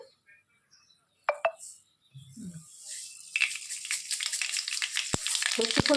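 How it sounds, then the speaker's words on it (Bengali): Mustard seeds dropped into hot oil for tempering a Bengali lentil dal, starting with a few clinks, then building into a steady crackling sizzle with sharp pops, close and growing louder. "এবার আমরা এতে দেব সর্ষে ফোড়ন"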